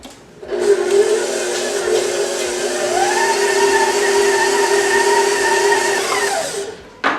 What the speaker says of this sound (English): I'm gonna go ahead and knead this for 5 to 7 minutes in my mixer